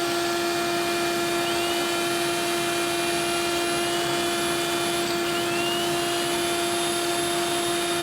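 A shop vacuum sucks up grinding debris beside a twin-turbo Mercedes V12 engine, a steady loud whine with a constant high tonal hum that runs unbroken throughout, close up and without talk.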